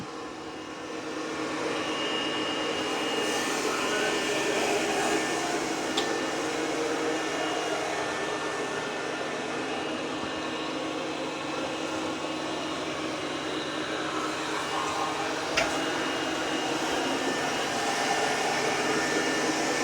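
An Ecovacs X11 Pro robot mop working through mud gives a steady, broad whirring hum that holds at an even level throughout, with one faint click partway through.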